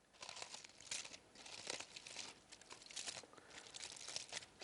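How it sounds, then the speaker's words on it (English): Aluminium foil is opened out and crinkled by hand into a nest around a baked apple, giving a steady close crackling and rustling that runs throughout with no talk. "You carefully open the foil and make a nest shape with it around the apple"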